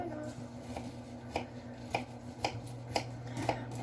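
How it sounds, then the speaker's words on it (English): Knife chopping pumpkin into small pieces in a home kitchen for a smoothie, a series of soft, regular chops about every half second over a steady low background hum. "I'm cutting up the pumpkin and I'm chopping it until it's very small and yummy"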